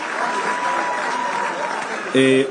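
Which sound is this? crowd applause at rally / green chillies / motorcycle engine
crowd applause at rally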